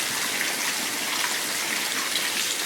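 Water runs steadily from a tap while hair is rinsed after a perm, a continuous close broadband hiss and splash with no voices.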